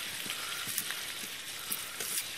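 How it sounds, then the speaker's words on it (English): Meat sizzles and fries in a pan over a campfire in a Ukrainian forest, a steady hissing crackle with occasional pops, fairly quiet and without speech. "You got the meat sizzling already."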